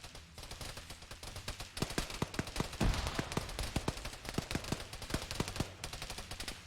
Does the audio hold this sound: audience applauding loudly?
no